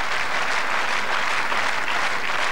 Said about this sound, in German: Der aufmunternde Applaus